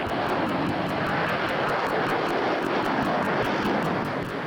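A Harrier jet flies at the Farnborough International air show, a loud, continuous engine roar that holds steady throughout with no speech over it.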